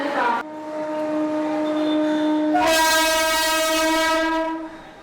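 A suburban train at Chhatrapati Shivaji station in Mumbai blares a long, loud horn, swelling sharply partway through before fading, with rail rumble beneath.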